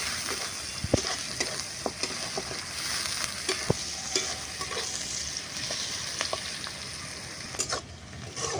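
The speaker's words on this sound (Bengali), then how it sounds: "পেঁয়াজটাকে একটু হালকা লাল লাল করে ভেজে নেব" Onions fry in leftover fish-frying oil in a pan for a village-style fish curry, a steady close sizzle punctuated by repeated scraping clicks of a spatula stirring, with no talking.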